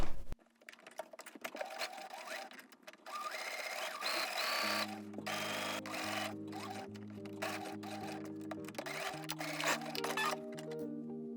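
A sewing machine stitches the shoulder seams of a drawstring top with a 0.5 cm seam allowance, a steady close whirring run of several seconds after a few brief fabric rustles, with no talking.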